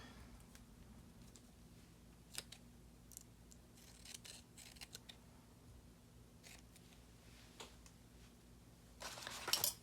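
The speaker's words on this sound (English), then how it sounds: "I do want to cut this white off. I don't like the white on the sticker." Scissors snip the white edge off a paper sticker in a quiet room, with scattered soft clicks and cuts spread unevenly over several seconds and a brief rustle at the end.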